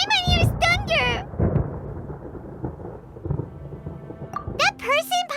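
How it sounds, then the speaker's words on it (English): Thunder rumbles through a storm in the video game Genshin Impact, a low, continuous roll beneath bright chiming game sounds and voices at the start and end. "Paimon hears thunder!"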